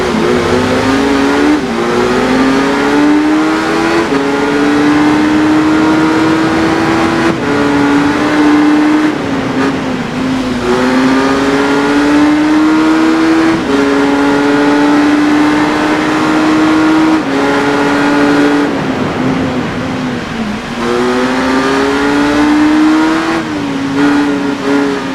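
A 2015 Kawasaki ZZR 1400 with a 1,441 cc inline-4 engine of about 200 horsepower revs loudly and steadily in the RIDE racing game, pitch climbing through repeated gear pulls with brief dips between them, continuous for the whole stretch.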